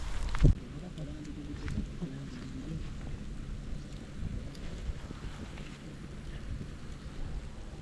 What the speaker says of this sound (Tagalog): medyo malakas po yung hangin dito